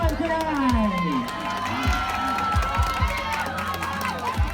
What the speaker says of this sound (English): Ladies and gentlemen, a round of applause for everyone tonight.